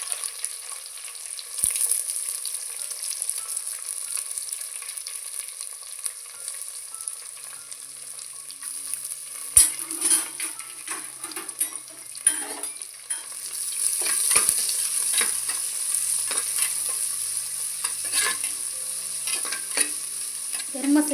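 Onions with garlic, ginger, cinnamon, star anise, cloves and pepper fry in a pan for mutton curry, a steady close sizzle with scraping stirs and utensil clinks throughout, no voices.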